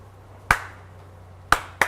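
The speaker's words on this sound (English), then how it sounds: "Give us a clap, David." Three sharp, close hand claps from one person in a quiet garage or junkyard setting: one single clap, a pause of about a second, then two more in quick succession over a low background hum.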